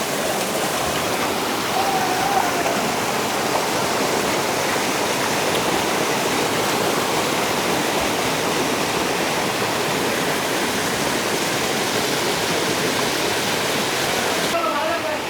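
A waterfall in the forest of Lama, Bandarban, Bangladesh roars steadily as stream water pours down, a continuous broadband rush that stays loud and even throughout.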